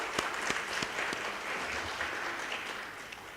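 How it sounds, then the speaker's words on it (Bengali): Audience at a national symposium on private sector participation in disaster response breaks into steady applause, dense clapping from many hands sustained at even volume throughout, fairly distant and roomy. "আমরা একটা জোরে হাততালি দিতে চাই"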